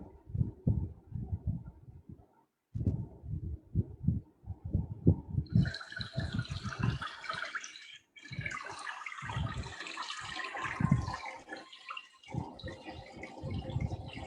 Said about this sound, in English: with the soothing sound of water flowing